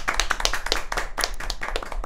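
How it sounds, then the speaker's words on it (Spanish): A small audience claps to welcome a guest, a loud, close patter of hand claps in an uneven burst that continues throughout. "un aplauso, por favor"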